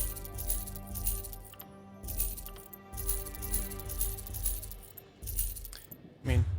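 Coins clink and jingle while items are sold in the Elder Scrolls Online video game, with bursts of cash-register jingles over steady game music and a louder clatter near the end.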